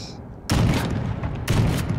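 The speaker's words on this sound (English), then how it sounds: "Let's try actually shooting something a bit closer with these blue tips quickly" A sniper rifle firing blue-tip rounds: two loud, close shots land about a second apart, and each sharp boom trails into a rumbling decay.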